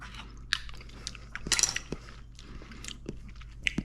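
Soft crunching bites and chewing of asparagus dipped in handmade aioli, close and quiet over a low steady room hum, with scattered small clicks and no talk.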